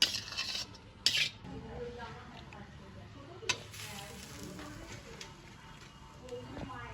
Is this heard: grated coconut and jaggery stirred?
yes